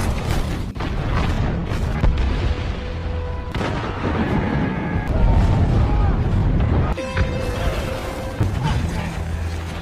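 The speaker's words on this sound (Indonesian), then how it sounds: "Sang komandan pun segera meminta bantuan artileri untuk menembakkan meriam sebagai penahan serangan" Artillery cannon fire on a battlefield, a dense, continuous rumbling barrage with heavy booms, under a narrating voice throughout.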